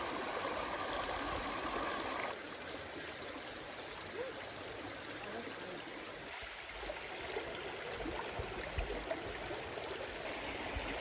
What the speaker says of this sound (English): you have a river coming from this side, right? And then on the other side of the campsite, it's the river again